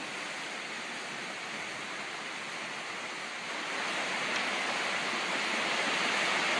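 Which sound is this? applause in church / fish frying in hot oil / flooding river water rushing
flooding river water rushing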